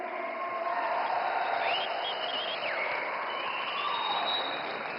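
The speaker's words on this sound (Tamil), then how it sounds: "10வது கைத்தட்டல்." A large outdoor crowd at a political rally in Coimbatore claps in a sustained, even wash of applause, heard at a distance through a public address system with a faint tonal whine above it.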